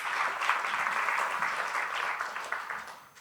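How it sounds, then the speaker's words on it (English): Audience applause at a conference on international humanitarian law, a steady bed of many hands clapping at moderate volume that tapers slightly toward the end. "an applause is in order"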